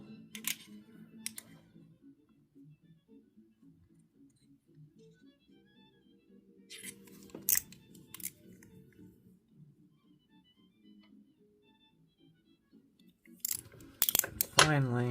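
A GAO Studio stainless steel mechanical slider fidget toy, version 1, giving faint, close, sharp clicks and snaps scattered among soft handling noises, with a cluster of quick clicks near the end.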